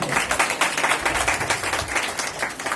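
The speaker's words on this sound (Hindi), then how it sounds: "जोरदार तालियां उनके लिए।" An audience at a speech event gives steady, dense applause, many hands clapping together in a sustained wash of sound throughout.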